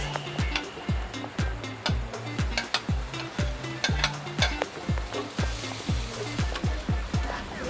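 Garlic and onion fry in a pan under steady sizzling, while a spoon stirs and scrapes in a quick regular beat of knocks that continues throughout, close and fairly loud, with no talk.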